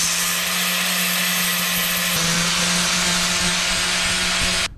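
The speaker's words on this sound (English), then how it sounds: "I've grinded half of it off" An angle grinder works down welds on thin car body metal of a VR6 project car, giving a continuous loud, harsh whir that shifts slightly midway and then stops abruptly at the end.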